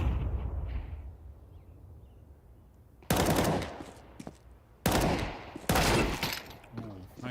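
Counter-Strike match at a BLAST Bounty Malta esports event, with sharp bursts of rifle fire in several close volleys following a quieter stretch, and casters' voices talking beneath.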